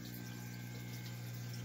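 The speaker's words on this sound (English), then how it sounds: "This is how I'm filling up my tanks. Just put a little prime in there, chuck a pump," Water pump pushing water through a hose to fill fish tanks in a fish room during water changes: a faint, steady low hum with a constant hiss of flowing water, unbroken throughout.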